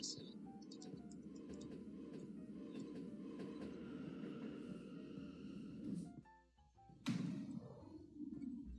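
A train pulls into a station in an MTR railway video game, a steady low rumble with a thin tonal whine, then a short dip and a sharp burst as it arrives.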